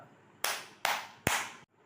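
Three sharp hand claps, evenly spaced and close, ring out against near silence.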